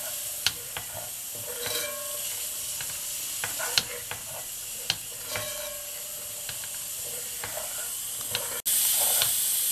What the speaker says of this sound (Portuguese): E vamos fritar esses 2 ingredientes junto com os demais para dar aquele sabor especial.